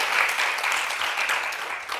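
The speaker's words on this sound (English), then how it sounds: "A round of applause for my speakers." Applause for the speakers at a health talk on skin care, a brief, even wash of clapping that holds steady from start to finish.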